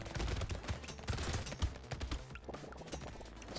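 Rapid SMG fire in Brotato during a nightmare run, a fast, continuous clatter of overlapping shots held at a steady level for the whole stretch, with no voices.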